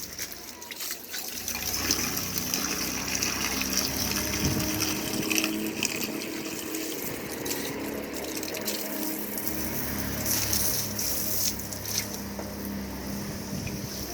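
Water runs steadily and loudly while something is being washed, a continuous rushing spray with splashy bursts throughout, close by and without speech.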